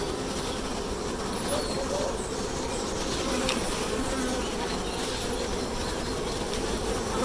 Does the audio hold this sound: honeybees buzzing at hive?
yes